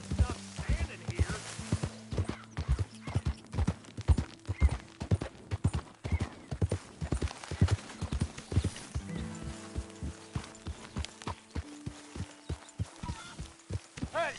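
Horse hooves clip-clop at a steady walking pace through a Red Dead Redemption game scene, with occasional snorts, while voices talk over much of the stretch and a faint music bed runs underneath.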